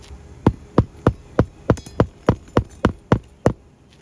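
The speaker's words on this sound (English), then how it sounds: "here's one hole, and I'll be nailing directly about 1 inch" A hammer drives a nail into plaster during a repairability test, with about eleven loud, close, evenly spaced blows at a steady pace.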